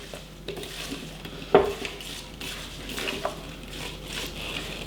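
Spoon stirring fruit salsa in a bowl, soft scraping and wet mixing with one sharp clink against the bowl partway through, close and moderately loud.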